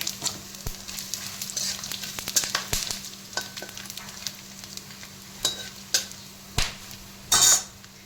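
Whole spices hit a hot pan and sizzle steadily, with scattered stirring scrapes and a few louder clatters of a spoon against the cookware near the end.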